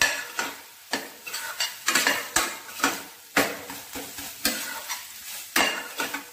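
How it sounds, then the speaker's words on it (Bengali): Spatula scraping and clattering in a pan of banana stem curry with coriander leaves, a close rhythmic series of sharp stirring strokes over a light sizzle, no voices. "ধনে পাতা দিয়ে একটু নেড়ে নিয়ে নামিয়ে"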